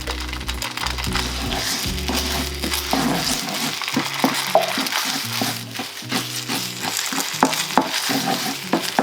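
Plant-based vegan egg scrambles in a hot frying pan, sizzling steadily and loud up close, with repeated scraping, stirring clicks from a utensil and background music running throughout.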